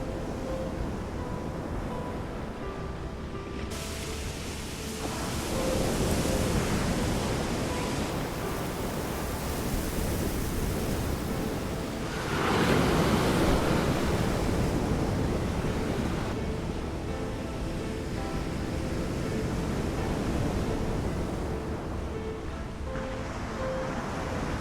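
Ocean surf washing onto a cold Pacific beach on the Oregon coast, a steady broadband roar with swells building and easing over several seconds, wind noise mixed in, no voices.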